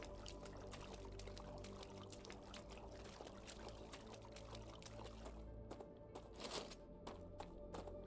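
Water in the video game StarRupture flows and trickles in a steady, faint stream with small splashy ticks, quiet throughout and briefly swelling near the end.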